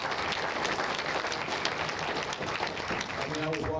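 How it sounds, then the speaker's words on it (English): A steady round of audience applause in a meeting room, dense and continuous, fading slightly as a voice starts at the very end. "one more round of applause for Skip"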